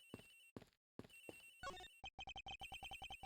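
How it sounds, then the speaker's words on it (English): Telephone ringing in Ace Attorney Investigations, a burst of electronic trills followed by a rapid run of repeated ring pulses, clear and alone after a few short sounds. "Agent Hick's phone. It's ringing from somewhere, sir."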